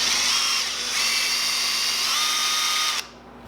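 A power drill whines steadily as it bores into a fishing lure modeled on a 1947 design, a continuous high-pitched drone for about three seconds before cutting off.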